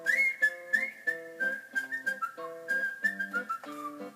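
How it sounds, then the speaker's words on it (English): Someone whistles a little folksy tune over strummed guitar chords. The clear, bright melody runs in short phrases above the steady chords, close and alone with no talk. "a-playing his guitar and a-whistling a little tune"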